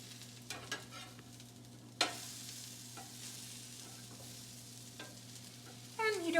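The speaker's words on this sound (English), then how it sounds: "I'm going to go back to the griddle and I'm going to turn the apple slices and the squash over" Apple slices and winter squash frying on a hot griddle, a steady soft sizzle with occasional scraping and clinks as the pieces are turned, with no talking.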